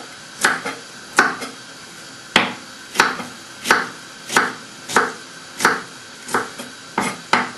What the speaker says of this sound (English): just take the leaf and cut the individual leaf